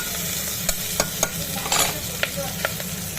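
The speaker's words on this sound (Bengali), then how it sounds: "সামান্য একটু নেড়ে নেবো অল্প নাড়বো বেশি নাড়বও না" A spoon stirs goat trotter curry in a pan, scraping with several sharp clicks against the metal over a constant close sizzle, with no voices.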